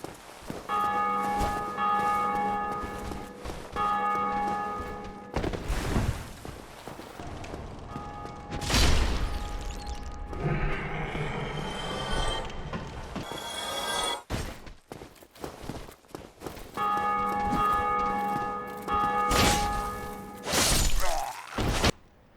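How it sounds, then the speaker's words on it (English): Tolling from the bell tower in the Undead Parish of the Dark Souls video game rings out in sustained resonant strikes, returning after a stretch of clattering, shattering game sounds. "When you reach the undead parish, you will hear a bell tower ringing in the distance."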